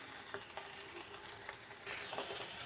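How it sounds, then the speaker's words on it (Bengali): An egg frying in a pan, a close, soft crackling sizzle with small pops and spatters, growing louder and brighter near the end. "ডিমটা আমি ভাজ দিয়ে নিব এখন।"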